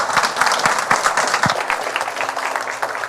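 Audience applauding in thanks to Silvio Meira at the close of a talk on new professions, steady dense clapping from a crowd filling the whole stretch with a few louder individual claps standing out.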